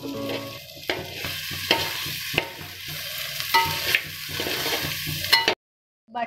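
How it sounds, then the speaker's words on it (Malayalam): Chicken masala sizzling and frying in hot butter for butter chicken, with a spoon repeatedly scraping and stirring it in the pan. The sizzle is close and steady, the stirs come as irregular bursts, and a short silence falls near the end. "ബട്ടറിലെ ഈ ചിക്കൻ നന്നായിട്ട് വേവിച്ചെടുക്കണം വറുത്തതുപോലെ"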